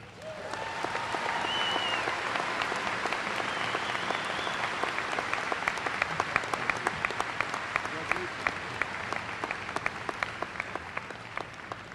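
A commencement audience applauds an award winner with sustained, even applause from a large crowd, steady throughout and heard alone without talk over it.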